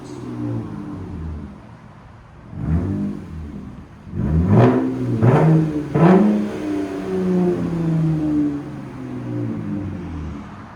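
A RAM pickup's 3.6L V6 fitted with an aftermarket muffler revs several times, with sharp rising-and-falling exhaust blips over a steady idle, loud and close.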